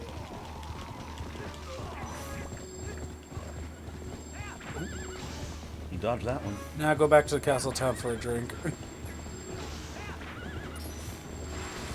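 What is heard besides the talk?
spirit horses neighing and galloping in Zelda: Twilight Princess video game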